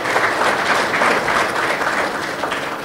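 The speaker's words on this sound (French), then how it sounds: "c'est un travail qui mérite d'être applaudi" Steady, dense applause from a crowd at a ceremony in Dakar, sustained and fairly loud for the whole stretch with no talk over it.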